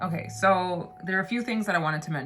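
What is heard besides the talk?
No everyday noises stand out.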